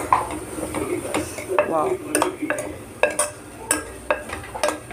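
A spoon scraping and stirring garam masala through mutton keema in a pan, with a soft sizzle and repeated sharp clinks against the metal, close up, plus a brief spoken syllable.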